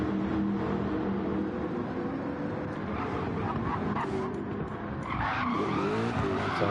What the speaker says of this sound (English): Doing some skids